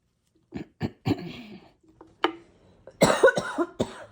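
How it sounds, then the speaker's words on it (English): A string of sharp, hoarse coughs from a sick person close by, a few spaced out at first, then a denser burst of coughing near the end. "I've been really sick, so I still have my cough"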